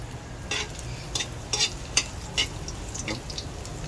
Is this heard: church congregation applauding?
no